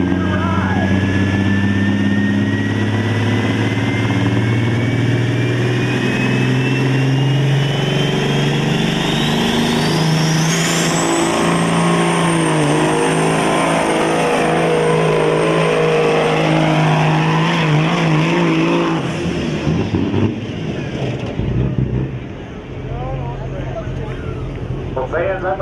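Pickup truck engine in a motorsport pulling event, a loud sustained roar with a rising high whine as it revs, under continuous announcer commentary, fading near the end.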